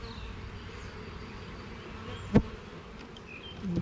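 Honey bees hum steadily throughout an opened hive that is short of food, a dense, even buzz with one brief knock partway through.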